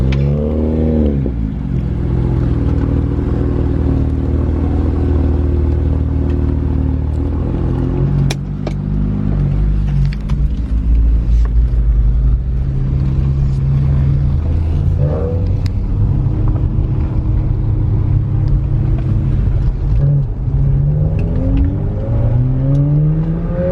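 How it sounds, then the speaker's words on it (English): A BMW 1M engine revs close by, a loud deep rumble that climbs and falls through several throttle blips over a steady idle, heard alone. "Courtesy rev."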